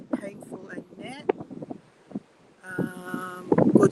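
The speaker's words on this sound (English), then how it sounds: "It is gorgeous, Annette, but it's very windy." Strong gusts of wind buffet the microphone outdoors, loud and irregular, while a person talks intermittently over it.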